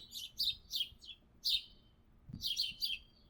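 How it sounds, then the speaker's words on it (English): Small birds chirp outdoors in quick, high, thin tweets, arriving in short clusters with gaps between them, faint and somewhat distant over a quiet background. "The birds are chirping."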